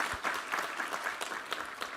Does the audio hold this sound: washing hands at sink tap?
no